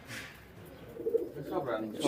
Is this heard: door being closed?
no